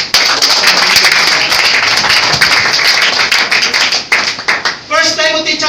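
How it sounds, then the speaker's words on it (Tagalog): A church congregation breaks into loud applause, many hands clapping hard and close with sharp individual claps standing out, then the clapping thins near the end as a voice begins. "Isang malakas na palakpak."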